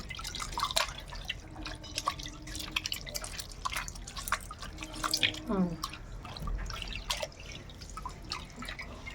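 Water drips and trickles in quick, irregular drops close by from a wrung-out cloth, a soft continuous patter with faint background voices.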